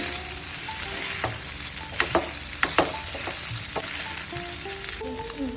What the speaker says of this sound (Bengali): হালকা করে একটু নাড়িয়ে নেব।